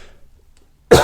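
One sharp, close cough bursts out abruptly after near silence.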